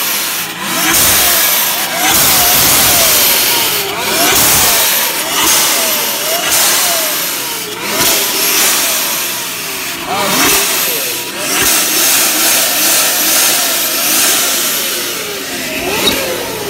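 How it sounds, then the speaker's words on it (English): A diesel engine revs repeatedly at a crowded Indianapolis street car takeover, its pitch rising and falling in waves amid loud, noisy background roar and scattered voices. "Sounds like a diesel."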